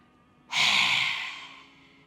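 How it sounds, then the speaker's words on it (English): Forceful open-mouth exhale with the tongue stuck out during somatic breathwork, a single loud breathy rush that starts suddenly and fades over about a second and a half. "you exhale out of the mouth, sticking out your tongue, and it can be with a sound"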